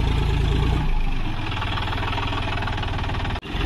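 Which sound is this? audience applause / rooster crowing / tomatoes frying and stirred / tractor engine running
tractor engine running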